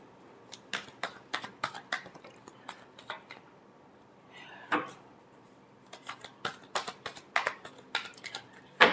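Tarot cards being shuffled, a dense run of quick crisp riffling snaps in clustered bursts with a brief pause midway, close and moderately loud, no talking.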